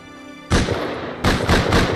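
Automated turrets firing in the console version of the survival game Rust: a loud burst of gunfire, a short pause, then a rapid string of three or four sharp shots, close and punchy.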